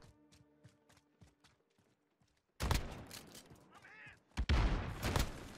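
Shotgun blasts in the video game Call of Duty Modern Warfare, a quiet run of footsteps and clicks giving way to two loud, heavy booming shots with rattling reverberation, close and dominant.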